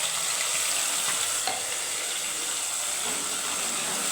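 Ground onion paste frying in a hot pan: steady, dense sizzling and hissing throughout, with faint stirring scrapes and no talk.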